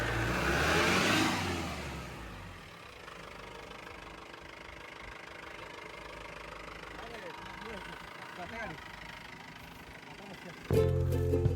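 A tourist car stuck on rough ground has its engine revved hard in a loud opening burst, then drops to a rough, uneven running and idling sound. People's voices are heard nearby.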